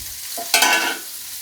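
Ivy gourd (dondakaya) pieces hit a hot oiled pan, giving a short, sharp sizzle that flares up quickly and then settles into a softer hiss, close and clear with no talking.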